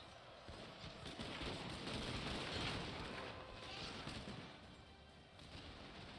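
Musket troops firing in the Shogun 2 video game, a dense, continuous crackle of volleys and scattered shots blending into a faint, distant battle din that swells and fades slightly.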